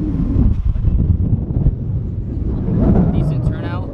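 Wind buffets the microphone in low, rushing gusts while a voice talks over it.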